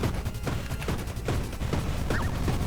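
Dense bullet fire from the shooter game Star of Providence: a steady, rapid stream of crackling shots with sharper bursts mixed in, loud and continuous, with no voice heard.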